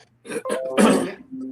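A man coughs close by, a few rough throat-clearing bursts rising to one heavier cough, with no speech.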